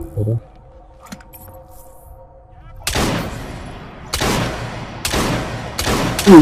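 Gunfire in the Assassin's Creed Syndicate video game: after a quiet stretch with faint low tones, four loud, sharp volleys ring out in quick succession, each with a short ringing tail.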